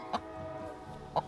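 A Rhode Island Red hen named Peachy, temperamental and distressed, gives two short, sharp clucks about a second apart over a steady low background hum.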